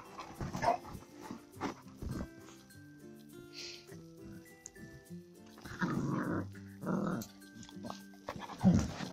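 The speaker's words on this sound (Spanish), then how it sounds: "aquí de fondo tenéis a la perrita y a Thor" A young female puppy whimpers and growls in the background alongside another dog, with intermittent soft whines and grumbles scattered through the stretch, faint to moderate and close by, and a voice speaking at times over them.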